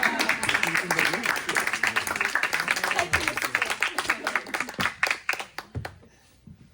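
An audience claps at a stage performance, quick dense hand claps that continue throughout and thin out and fade near the end, with a brief spoken line over the start.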